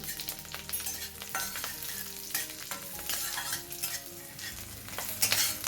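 Nigella seeds and slit green chillies frying in hot ghee, giving a busy, close crackling sizzle while the pan is stirred and scraped, with no talking.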